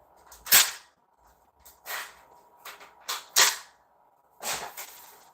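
Toy or replica guns, nerf or fake BB, fire several sharp snapping shots at irregular intervals, each a short crisp crack, with no talking.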